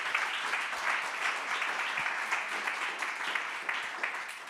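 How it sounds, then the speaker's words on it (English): A seated audience at a talk applauds for the guest speaker, a steady even wash of clapping held for several seconds at moderate loudness. "let's give Melissa a big round of applause"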